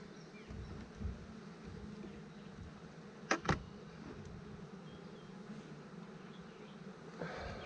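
Honeybees buzzing around open hives during an inspection, a soft continuous hum close by with a couple of brief sharper clicks or knocks partway through and no talking.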